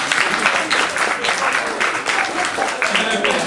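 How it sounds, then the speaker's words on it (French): An audience at a school awareness campaign event applauds steadily, with dense clapping sustained throughout and some voices mixed in. "On les applaudit aussi."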